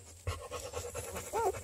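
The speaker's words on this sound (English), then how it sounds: "Oh, gorgeous puppies." Newborn Bluetick Coonhound puppies, from a litter of eight, pant with quick, soft breaths close by, ending in a brief high squeaky whimper.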